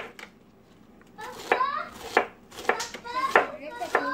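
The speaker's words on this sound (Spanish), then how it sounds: "estamos picando el repollo así finito" Repeated knife chops finely cutting cabbage on a cutting board, several quick strokes in an irregular rhythm, close by, with faint background voices.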